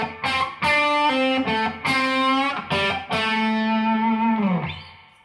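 An electric guitar plays a blues lick, a few picked notes and slurred phrases ending in a long sustained bent note that slides down, with a slightly overdriven tone, close and clear.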